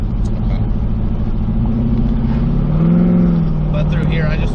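A Toyota MKIV Supra pulls hard at full throttle up a hill, its engine a loud, continuous drone that swells and climbs slightly in pitch midway, heard from close by.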